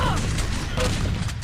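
Shotgun fire in a first-person shooter match, heard as a few dull booming shots inside a dense, continuous wash of game noise and distant gunfire.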